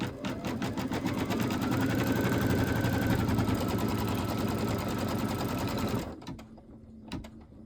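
An embroidery machine stitches an in-the-hoop cat quilt block, giving a loud, fast, steady needle rhythm close by for about six seconds before it stops and a few faint clicks follow.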